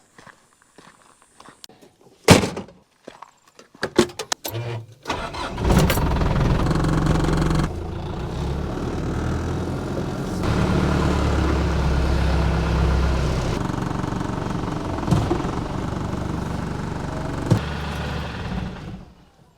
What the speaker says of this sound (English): you just heard the last that this diesel's ever going to run